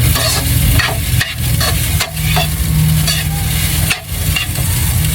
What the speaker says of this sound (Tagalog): iinintan na natin yung sinangag na ginawa ni mama kanina